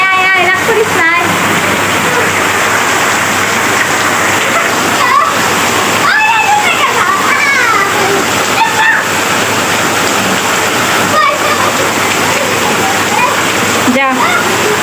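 Heavy rain pours down with constant splashing water close by, a dense steady hiss, while people's voices come and go over it.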